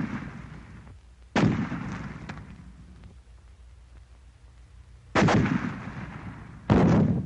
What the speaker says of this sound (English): The fragmentation grenade.